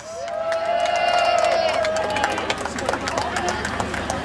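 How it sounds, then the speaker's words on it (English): A crowd at a medieval battle reenactment cheers and whoops as a fighter in blue and yellow comes onto the field, a loud sustained roar with voices over it. "give him a cheer as he comes onto the field in the blue and yellow, William Wallace!"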